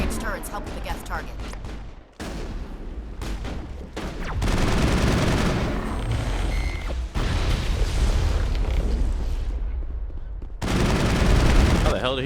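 Coordinated crossfire in Mass Effect from Geth attackers with long-range turrets, heard as dense, continuous volleys of gunfire and heavy impacts in long loud bursts separated by brief pauses.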